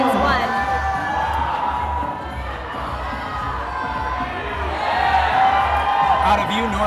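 A crowd at a climbing competition cheers and shouts continuously, with whoops rising and falling, while a commentator talks over the noise.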